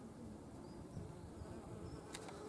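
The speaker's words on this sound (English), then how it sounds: "This one's catmint, absolutely covered in bees." Bees swarm over catmint in a May garden, a soft, continuous buzzing drone that stays steady and faint, with a brief higher tick near the end.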